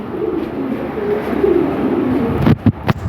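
Lahori Sirazi pigeons at a breeder's sale coo in soft, low, rolling calls that continue steadily, ending with a few louder, closer thumps and flutters.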